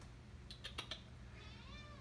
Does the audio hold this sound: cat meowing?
yes